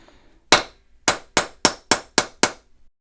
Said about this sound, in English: I might move to a lighter hammer.